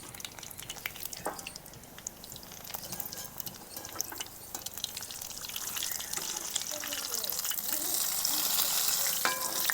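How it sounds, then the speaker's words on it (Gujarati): Bread vada frying in oil in a village kitchen, a continuous crackling sizzle that swells steadily louder toward the end, with scattered pops and spatters up close. "આપણે બ્રેડ વડા તૈયાર થઈ ગયા છે તળાય જોઈ શકો છો"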